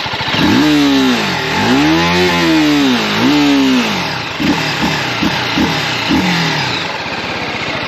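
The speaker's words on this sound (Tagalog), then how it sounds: "Now take a listen to the exhaust." A TVS RTR310 motorcycle's exhaust revs loudly up and down in several long sweeps, then blips in a quick series of short, sharp throttle stabs, close to the mic with no talk.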